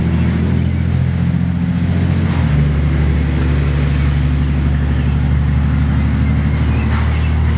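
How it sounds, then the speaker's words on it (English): A loud, steady low engine drone and rumble from vehicles on a busy road at a street corner, a heavy idling or passing motor dominating throughout with a slight shift in pitch partway. "We live on the corner of two pretty busy roads and every vehicle around here sounds just like that."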